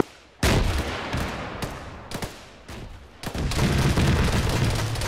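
Arma combat fire: several loud, sharp gunshots ring out in a ragged sequence with echoing tails, then a denser burst of shooting swells and holds near the end.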